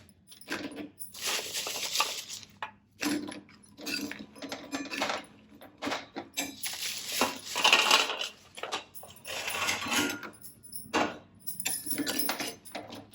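Shirladu sweets being stirred gently in a pan with a utensil, giving repeated scraping and clinking strokes that come in steady bursts, close and fairly loud, with no voices.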